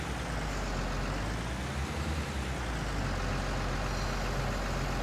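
A semi truck tractor engine in a truck simulator game runs as a loud, steady, dense rumble with broadband noise, unchanging throughout and alone without talk.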